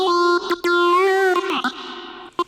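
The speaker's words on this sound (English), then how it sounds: "that sound is achieved by this slowly opening envelope." Synth tone with a slowly opening envelope, a sustained harmonic note whose brightness swells gradually over a couple of seconds, broken by short percussive hits and a brief high burst near the end, with no talking.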